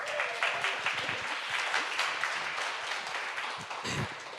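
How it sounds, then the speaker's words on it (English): An audience at a Nature Rx panel on health and nature applauds a panelist, steady dense clapping throughout at a moderate level, with no voice over it. "Let's give her a round of applause."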